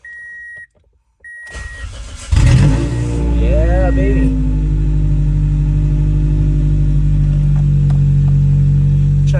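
A 2003 Toyota Matrix XRS with an open exhaust fires up after a few beeps, cranking then catching into a loud, raspy idle that settles into a steady drone, with a brief spoken exclamation over it.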